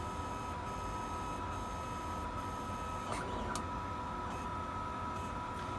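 A resin 3D printer runs mid-print with a steady mechanical hum and faint tonal whine, with a few soft clicks near the middle and no talking.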